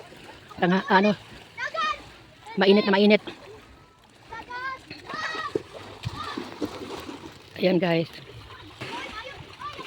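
Children splashing while swimming in the sea near Hilongos, with light, scattered water splashes in the background beneath nearby people talking loudly in bursts.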